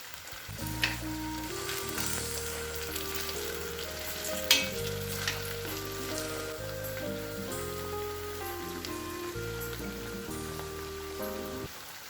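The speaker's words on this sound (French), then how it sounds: "je rajoute encore les oignons vers la fin de la friture" Potatoes and onions frying in oil for a Spanish tortilla give a steady, continuous sizzle throughout, partly under background music.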